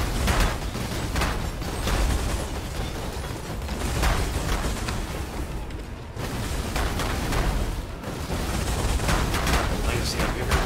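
Fire explosion ability in Path of Exile, booming in repeated heavy, drum-like blasts over dense game noise, loud and close.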